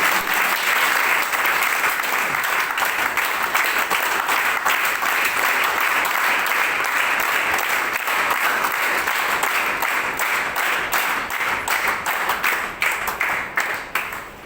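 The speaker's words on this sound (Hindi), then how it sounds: "जोरदार तालियां सर प्लीज, जोरदार तालियां" An audience at a company CEO's speech event claps loudly and continuously for several seconds, a dense wash of applause that thins into scattered claps near the end.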